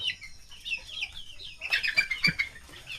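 Chickens cluck and chicks peep in a busy mix, high chirps layered over lower clucks, fairly close and steady throughout.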